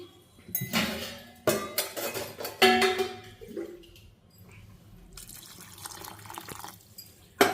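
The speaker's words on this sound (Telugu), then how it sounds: "సో ఇందులో సరిపడినన్ని వాటర్ వేసేసి" Water is poured into a metal cooker, with splashing and dripping mixed with clanks and clatters of pots and utensils.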